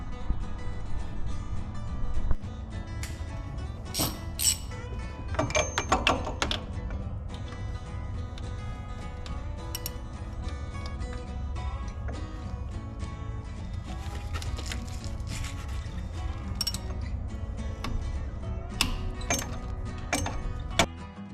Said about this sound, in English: So now we're gonna get our ratchet down there and get into that alternator.